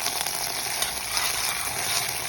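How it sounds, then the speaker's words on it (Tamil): Ginger paste and green chilies sautéing in a pan with cinnamon, star anise and cardamom for a paneer coconut curry, an intense, even hiss of frying that stays loud and close, no talk. "2 நிமிஷம் கழிச்சு இஞ்சி பேஸ்ட், பச்சை மிளகாய் போட்டு வதக்கிங்கோ."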